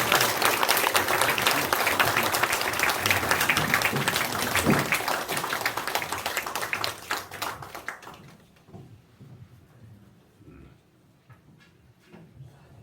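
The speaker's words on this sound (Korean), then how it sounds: "박수 한번 쳐주세요" Audience applause at a church theology seminar, a dense burst of clapping from a seated crowd that holds strong for several seconds, then thins out into scattered claps and rustles.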